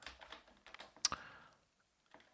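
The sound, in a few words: typing code on a computer keyboard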